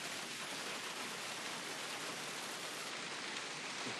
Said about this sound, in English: looks like it's just really, really heavy rainfall going alongside of that as well